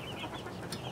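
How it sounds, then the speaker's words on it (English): A farm rooster gives a brief, faint run of clucks from some distance, heard alone without speech. "There's one of these roosters who's been getting a little nutty lately."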